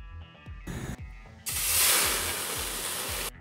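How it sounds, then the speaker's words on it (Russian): A steady, loud hiss of food sizzling in a hot frying pan on a gas stove sets in after a moment of lower rumbling, with faint rhythmic thumps underneath. "Перед самым запуском шипение сковородки."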